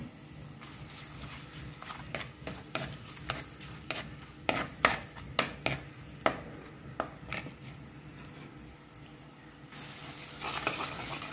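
Spices and onions sautéing in a pot for Sri Lankan-style biryani, a steady sizzle broken by a run of sharp scraping stirs in the middle and a louder hiss toward the end.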